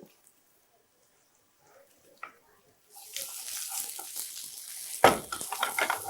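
Squid and tomato being sautéed in a pan: near silence at first, then a continuous sizzle begins partway through, with a louder clatter of stirring near the end.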